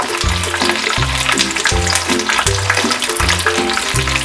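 Paneer cubes frying in very hot oil, a loud, dense bubbling sizzle with steady rhythmic low pulses, close up and uninterrupted.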